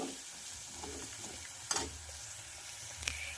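Curry leaves sizzling in hot oil in a pan while cooking sprouted matki bhaji, a soft steady frying hiss with a couple of sharp crackling pops, no talking.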